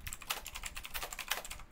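Rapid clacking keystrokes on a loud computer keyboard, a dense irregular burst of clicks picked up close by a microphone, with no talking.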